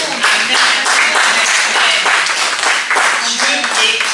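A church congregation applauds the Lord at a conference after a healing testimony, with loud, dense, sustained clapping that fills the room steadily throughout, and voices mixed in among the crowd.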